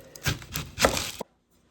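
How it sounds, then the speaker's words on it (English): An onion is chopped with a knife in a few quick, close cuts and thumps on a board, followed abruptly by near silence. "Today I'll be teaching you how to completely chop up an onion."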